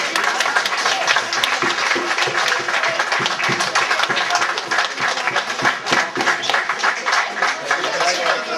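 Steady applause from a whole crowd at a medal ceremony, many hands clapping densely and continuously at a close, even level for the full stretch.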